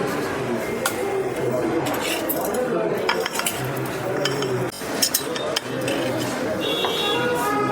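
Spoons, forks and plates clinking at a restaurant table in Darjeeling, repeated light metallic taps and scrapes against dishes over steady room chatter, with a voice speaking nearby.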